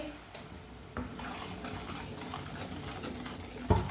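A utensil stirring cooked jaggery mixture in a pot, soft scraping and swishing with a few sharp clinks against the metal, fairly quiet and close.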